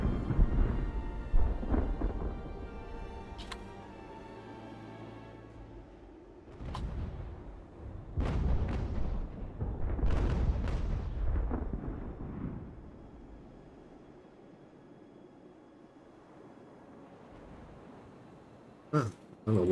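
Broadside cannon fire from sailing warships in a naval battle game, heard as several deep, rumbling booms spaced irregularly, some close and heavy, with a faint voice talking between them and two sharp bursts near the end.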